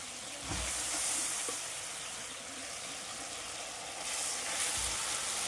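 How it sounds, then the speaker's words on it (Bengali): Fried eggplant stirred into mustard-poppy paste in a pan over low heat, giving a steady close sizzle with brief swells of louder frying and a few scraping stirs. "এতেতে বেগুনটা দিয়ে দেবো, ভাজা বেগুনটা"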